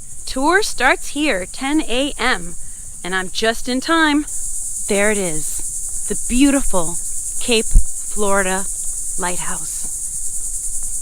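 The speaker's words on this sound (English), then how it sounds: "You can hear the crickets chirping" Crickets chirp near the Cape Florida Lighthouse on Key Biscayne, Miami, in a steady, shrill drone that runs through the whole outdoor scene beneath someone talking close by.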